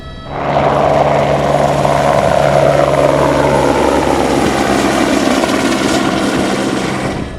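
Loud, continuous rotor and engine roar of a sheriff's office helicopter in flight at about 600 feet, heard from close by and holding steady throughout without letup.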